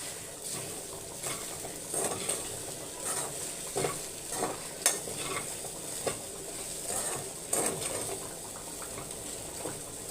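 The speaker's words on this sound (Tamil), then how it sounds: "இப்போ எல்லாம் சேர்ந்தா மாரி மிக்ஸ் பண்ணிக்கோங்க" Carrot and bean usili being mixed in a pan gives repeated spoon scrapes and clinks over a low steady sizzle, fairly soft and close, with no talking.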